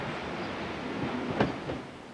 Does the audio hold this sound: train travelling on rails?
yes